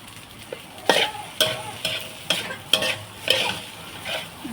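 Shrimp fried rice being stir-fried in a pan: a loud, steady sizzle with rhythmic spatula scrapes and clatters about every half second.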